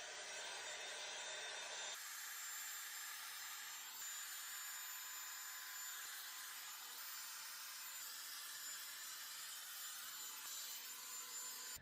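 Shark 900-watt three-temperature hair tool with an oval blow-dry brush, running on middle heat while drying hair: a steady, even airy whoosh with light brushing rub, holding constant for the whole stretch with no talk.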